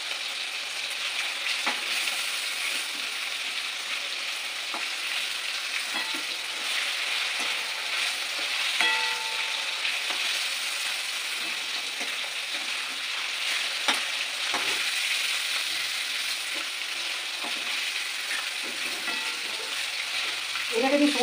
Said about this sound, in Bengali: সমস্ত মাংসগুলো একে ভেজে নেবো।